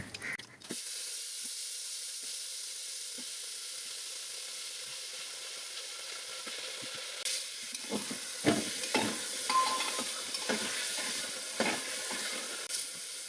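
Cumin seeds and a bay leaf sizzle in a little hot oil, giving a steady close hiss. Sharper crackles and stirring scrapes pick up in the later half.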